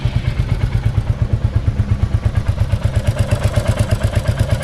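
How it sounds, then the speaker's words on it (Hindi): A Royal Enfield Classic 350 Reborn motorcycle engine idles steadily up close, a loud, even single-cylinder thump that repeats rhythmically throughout, with no voices. "तो मैं आपको सुना देता हूँ अपने इंजन का साउंड जो है कैसा है"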